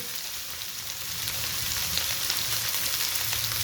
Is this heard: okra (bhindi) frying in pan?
yes